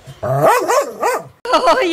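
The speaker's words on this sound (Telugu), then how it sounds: "మా ఊర్లో కుక్కలు ఎక్కువ" Several village dogs bark and yelp in quick bursts, loud and close, the barks overlapping with short pauses between them.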